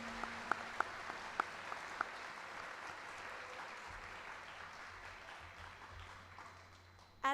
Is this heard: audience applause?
yes